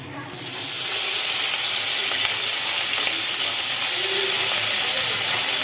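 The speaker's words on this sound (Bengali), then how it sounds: "তেলের ওপরে মাছ পড়ে গেল মাছগুলো ভাজা হচ্ছে" Rohu fish pieces fry in hot oil, the loud sizzle rising within the first second and then holding as a dense, steady hiss with faint crackles throughout.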